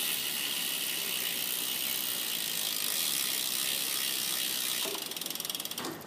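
The freewheel ratchet on a 2013 bicycle's rear hub buzzes in a fast, steady clicking whir that slows into separate clicks at the end, close and loud with no talk.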